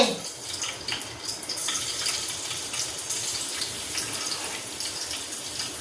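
Water pours and splashes steadily into a pot of heated oil while cooking amti, a soft continuous hiss with small bubbling fluctuations, close by and otherwise quiet.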